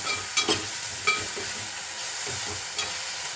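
Coriander being stirred into a mint chutney cooking in a little oil in a pan, a soft continuous sizzle with a few scattered scrapes and taps from the spoon.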